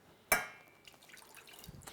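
Water poured into a pan to make sugar syrup in a kitchen, a sharp splash onset followed by a soft trickling pour fading in and out, close and fairly quiet.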